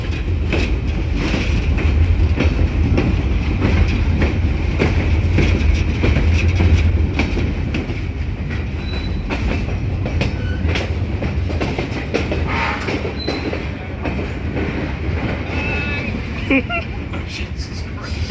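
A heritage train rolls along the Oil Creek and Titusville Railroad, its loud, continuous rumble and rattling clatter filling the whole stretch, with passengers talking over it.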